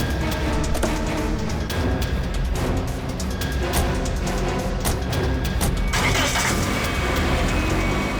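A car engine runs steadily and loudly close by as people hurry into the vehicle, with a short burst of brighter noise near the end that could be a door or movement.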